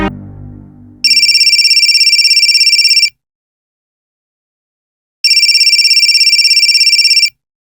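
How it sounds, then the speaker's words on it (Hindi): A phone ringtone sounds in two loud, bright bursts of about two seconds each, separated by a pause, following a brief trailing voice at the start. "आनंद बेटा, तुम्हारा फोन बज रहा है"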